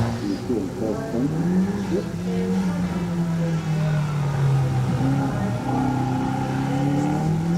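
Datsun 1600 race car at a hillclimb, its engine revving and droning at middling distance with wavering pitch as it climbs, beneath continuous commentary from people talking.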